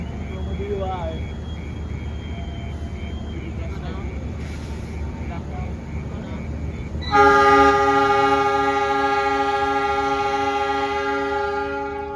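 An Argo Sindoro passenger train of New Generation cars sounds a loud, sustained horn as it runs through Sasaksaat station, after a stretch of steady rail rumble and low background noise.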